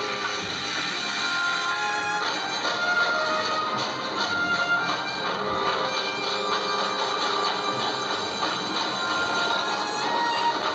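A running train gives a dense, continuous metallic rumble and clatter, steady and fairly loud for the full length with no voices over it.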